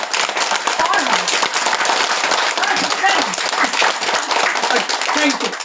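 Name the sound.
group of people clapping hands hard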